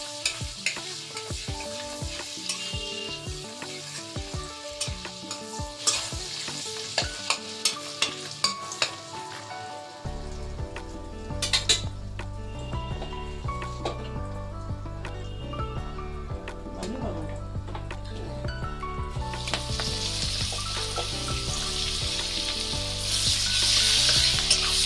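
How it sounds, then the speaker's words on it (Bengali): Whole garam masala and a bay leaf frying in oil make a continuous sizzle with clattering knocks of a spoon against the pan early on. "এবার দিয়ে দেবো গোটা গরম মশলাটা, তেজপাতাটা দিয়ে দিলাম।"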